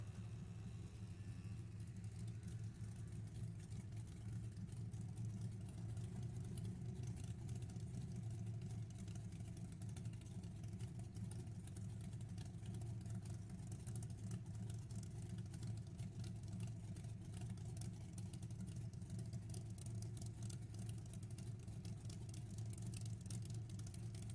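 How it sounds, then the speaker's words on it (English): A 1968 nitrous-assisted Camaro idles at a drag strip, its steady low engine rumble continuous and fairly loud for the whole stretch, with no voices over it. "1968 nitrous assisted Camaro."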